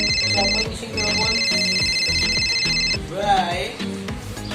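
A telephone rings with a loud, repeating electronic ringtone for about three seconds. A person then talks over the ringing.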